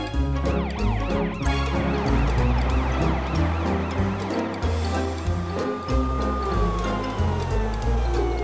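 A cartoon fire truck's siren wails through a busy emergency scene, its rising and falling tone riding over layered music and effects, loud and close for the whole stretch.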